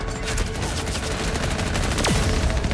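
Dense, continuous gunfire in the shooter game The Division Resurgence, a rapid rattling barrage of overlapping shots with a brief whizzing sweep near the end, loud and without pauses.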